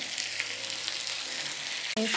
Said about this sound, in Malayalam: അങ്ങനെ പൊരിച്ചാൽ പെട്ടെന്നാവും എന്നുള്ളൊരു രീതിയിലാണ് ഞാനിങ്ങനെ പൊരിക്കുന്നത്